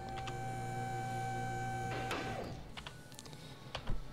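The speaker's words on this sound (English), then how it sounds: "Let's put her up on the lifter" A car lift in Car Mechanic Simulator runs with a steady mechanical hum and whine for about two seconds, then stops with a clunk followed by a few faint knocks and clatters.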